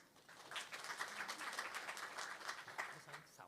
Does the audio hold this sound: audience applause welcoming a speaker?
yes